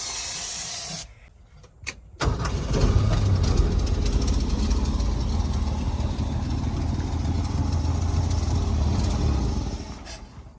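A rusty old Ford truck engine idling rough after a brief stutter and restart, a steady hissing rumble that runs for several seconds before fading out as it dies.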